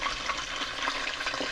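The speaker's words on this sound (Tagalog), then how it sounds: "Piniprito ko siya." Close, steady sizzling and crackling of milkfish frying in hot oil in a pan, a continuous hiss with small pops throughout.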